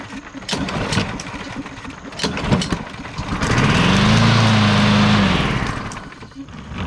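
A Husqvarna lawn mower engine on a table cranks with a few pulls, then catches and runs loudly for a few seconds with a steady hum before revving down and cutting out.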